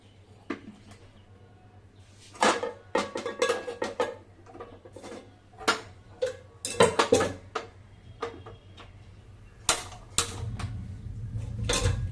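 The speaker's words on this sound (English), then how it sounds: "So now I put the pan on" Metal cookware clanks and scrapes as a pan is set down and shifted on a gas stovetop, over a low steady hiss of burning gas.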